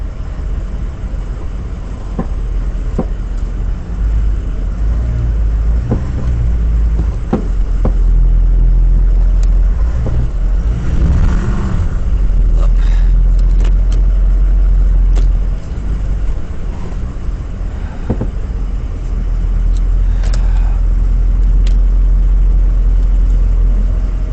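An off-road vehicle creeps over large rocks on a trail during a river crossing, with a loud low engine rumble throughout and scattered knocks and scrapes from the rocks beneath.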